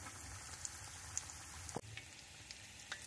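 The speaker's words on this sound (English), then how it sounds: "So I've got 6 of them in here frying." Six Chili's-style Southwestern egg rolls deep frying in oil at home, a faint steady sizzle and bubbling with a few soft pops and one small clatter.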